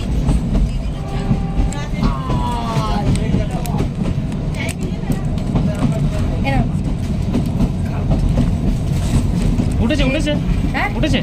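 The Shivalik Deluxe Express toy train running on narrow-gauge rails, heard from inside as a constant rumble with rattling wheels, while voices chatter over it.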